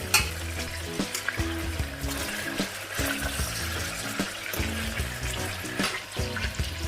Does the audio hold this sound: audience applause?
no